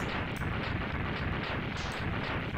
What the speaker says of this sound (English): could you stop exploding, Sigma? That would be nice.